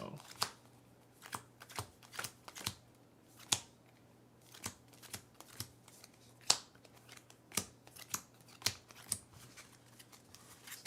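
Cards from the Earthborne Rangers tabletop game are shuffled together, sharp irregular riffling and snapping bursts spread over several seconds with quiet gaps and a low steady hum beneath.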